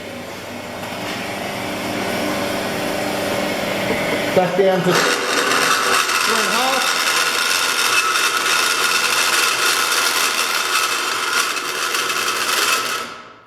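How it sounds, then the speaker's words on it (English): A machine cuts metal while a drill gauge is made, giving a loud, continuous grinding whine that rises after a few seconds and holds steady; a voice speaks briefly over it. "let's increase our speed and start doing a cut. You can listen to how noisy it is."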